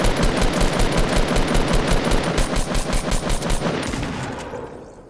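Automatic gunfire in Fortnite Battle Royale, a video game: a loud, rapid burst of shots at an even rhythm, continuous for about four seconds before trailing off, close and dominant with no talk over it.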